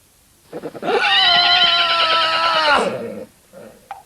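A horse neighs loudly and close in a video game's horse grounds, one long whinny with a shaky pitch lasting about two seconds, followed by faint scuffling.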